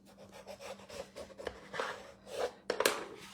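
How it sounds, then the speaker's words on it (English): Paper on a handmade gift box gets burnished down with a series of short, close rubbing strokes, dry scraping swipes of uneven loudness with brief taps between them. "We can burnish this down."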